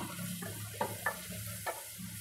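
Tomatoes with pepper powder sauté in a pan, giving a soft, steady sizzle broken by a few light scraping stirs, with no one talking.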